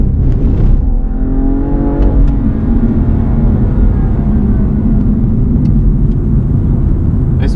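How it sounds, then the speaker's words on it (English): BMW M car engine at full throttle on the Bedford Autodrome track, a steady loud continuous roar with rising harmonic tones as it accelerates through the gears, heard from inside the car. "And then on the throttle, let it run right out"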